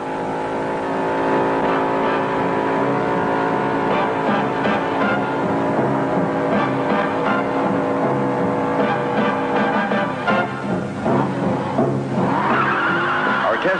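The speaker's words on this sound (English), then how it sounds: "our driver found it quite easy to throw our little red bomb into a four-wheel drift and control it all the way through the corner with the throttle" A red 1968 Jaguar E-type roadster drifts through a corner on the throttle, its engine droning loud and continuous with tire noise, while someone narrates over it and the pitch swells near the end.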